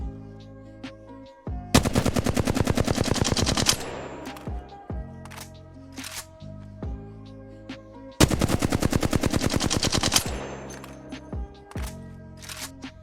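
Automatic fire from the Flatline rifle in Apex Legends, two long full-auto bursts of rapid, evenly spaced loud shots, each roughly two seconds, with a few scattered single shots and quieter game sounds between them.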